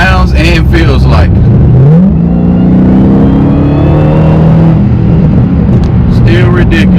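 A Dodge Hellcat with a modified exhaust revs loud and close in a 500-horsepower gas saver mode, its engine note climbing and holding in a steady drone before easing off, with brief talk at the start and end.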